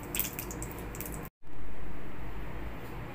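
Cauliflower and potato pieces tossed together with salt, chili powder and turmeric powder, giving a close, continuous soft squishing and rustling that cuts out briefly, then resumes as a smoother, steady mixing noise.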